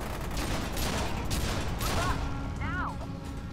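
Sustained rapid gunfire in the shooter game F.E.A.R. 2, a dense continuous fusillade with a large gun, punctuated by mechanical clanks and whizzing effects, with a voice murmuring faintly underneath.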